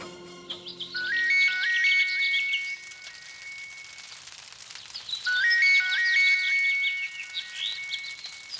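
A mobile phone rings while someone calls on it: a bright, chirpy electronic melody plays in two separate bursts with a short gap between them. No one speaks.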